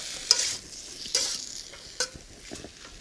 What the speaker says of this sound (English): we keep stirring it to make sure that all ingredients and mix together